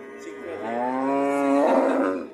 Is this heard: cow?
yes